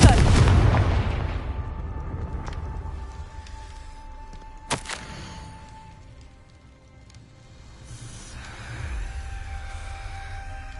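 A Confringo spell fired in Hogwarts Legacy bursts with a loud explosive boom and sharp crack midway, trailed by rumbling low-end and lingering game ambience.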